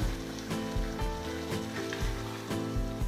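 Bottle gourd leaves sizzle steadily in an uncovered pan with a lid just lifted, a dense close frying hiss with a few soft stirring knocks and no voices.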